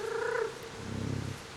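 An orange and white cat in the video game Stray purrs softly in a short, quiet burst of rhythmic low rumbling, preceded by a brief higher-pitched tone.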